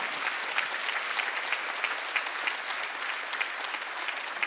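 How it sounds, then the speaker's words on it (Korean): A church congregation claps steadily during a worship service, a dense, even patter of applause filling the room with no voices standing out. "이게 믿음이라고 박수 치라고."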